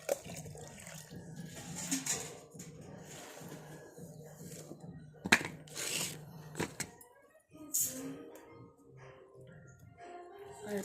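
Rice is washed by hand in water, with swishing, sloshing and trickling sounds close up in irregular bursts, and a few sharper clunks from the container along the way.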